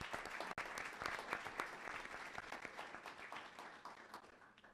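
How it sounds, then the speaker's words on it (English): Dense, sustained applause from an audience at a county board of education meeting, steady clapping filling the room for several seconds with no talk over it. "let's give them a huge round of applause"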